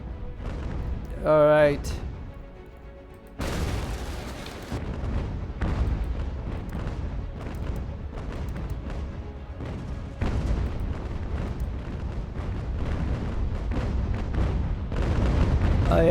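Heavy cannon fire booms repeatedly from a 112-gun warship in a sea battle in the strategy game Ultimate General: American Revolution, a dense rumbling barrage with someone talking over it.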